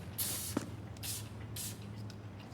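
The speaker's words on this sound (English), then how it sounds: "The rust remover's in some sort of spray bottle." Rust remover spritzes from a spray bottle in Tell Me Why, giving three short hissing bursts spaced about half a second apart over a quiet low background hum.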